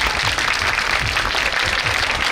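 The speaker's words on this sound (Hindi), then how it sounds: "एक बड़ी तालियां बजाइए फिर से अपनी माँ के लिए।" Steady, dense audience applause at a Navratri Mata Rani bhajan performance, a continuous wash of many hands clapping close and loud, with no one talking over it.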